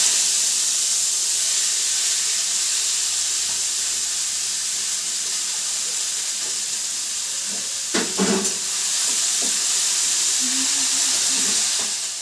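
Pumpkin pieces hit hot oil in a pan, giving a steady, close hiss and sizzle with a brief burst of crackling partway through, no voices over it.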